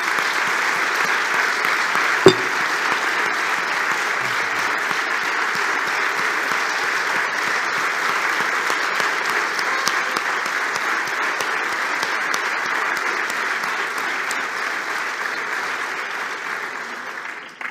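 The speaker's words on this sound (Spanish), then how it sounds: "Por favor, un aplauso para ellas y para ellos también." An audience applauds teachers at a 2023 diploma ceremony, a steady, dense round of clapping that holds for about eighteen seconds and tapers slightly at the end, with no talking over it.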